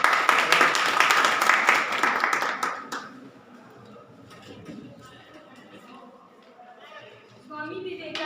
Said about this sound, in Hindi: जोरदार तालियां इनके लिए हो जाए।